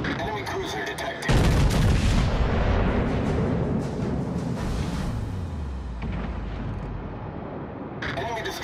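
Naval gunfire at an enemy ship in World of Warships: Legends: a sudden, loud heavy blast that rolls into a long, deep rumbling roar, fading slowly over several seconds.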